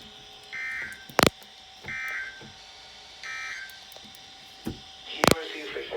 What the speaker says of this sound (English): This concludes the weekly test of the warning alarm system.